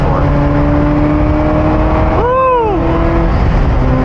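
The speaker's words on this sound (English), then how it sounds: "It revs easier to redline." Ferrari 348 engine running under steady drone, with one sharp rev that climbs quickly toward redline and drops away; a person whoops during it.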